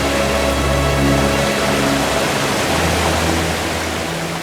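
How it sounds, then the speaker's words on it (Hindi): A waterfall roars as a broad, steady rush of water throughout, loud and close, with a low hum underneath easing partway through. "तो झरना देख रहे हैं ना?"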